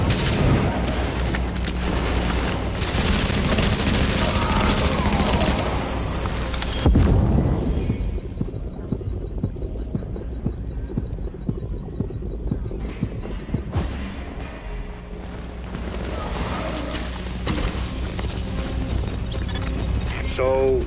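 Gunfire in Tom Clancy's The Division, with a dense loud barrage of repeated shots and booms that drops into a sparser run of single reports partway through, mixed with game sound and talk.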